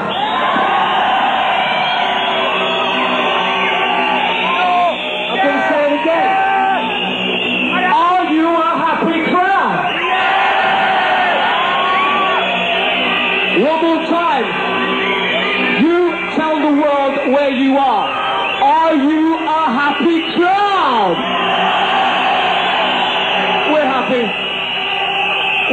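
Live rave crowd at a gig at Nemesis in August 1991 cheers and whoops loudly throughout, with rising yells mixed into pounding music and a voice talking over the top.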